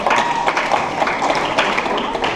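Audience applause at a middle school event, a dense burst of clapping from a crowd heard up close and loud, with scattered voices and cheers mixed in.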